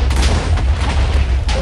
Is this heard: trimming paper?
no